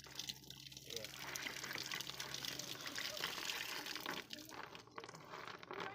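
Rinse water drains off a batch of freshly washed peanuts in a kitchen, a steady close splashing and trickling that runs throughout while a voice talks over it.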